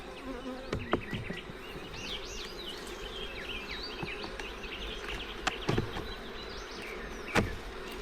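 Honey bees buzz steadily around an open beehive during an inspection, a dense continuous drone with a few sharp knocks and clicks from handling frames close by, no voices.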